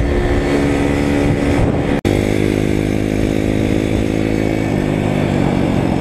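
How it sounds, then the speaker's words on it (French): An Apollo RFZ enduro dirt bike engine screams at full throttle, loud and close, as a sustained high-revving drone with one split-second dropout before the engine carries on steadily. "Alors là, le moteur est à fond, quoi."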